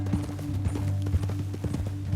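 Horse hooves clip-clop steadily in Red Dead Redemption 2, a close, even walking rhythm of many soft strikes over a low continuous rumble, with no voices.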